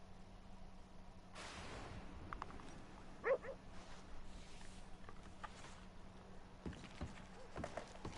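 A dog in the video game Red Dead Redemption 2 gives a few short, faint barks and yips in the distance over a low steady game ambience, with occasional soft hoof-like clops.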